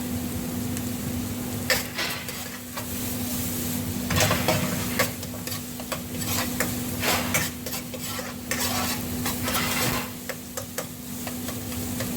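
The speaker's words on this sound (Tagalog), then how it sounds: "Lutuin na natin mga gulay." Vegetables stir-fry for Korean vegetable fried rice, a steady close sizzle broken by repeated spatula scrapes and taps against the pan.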